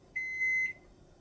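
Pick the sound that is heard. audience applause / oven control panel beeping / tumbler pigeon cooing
oven control panel beeping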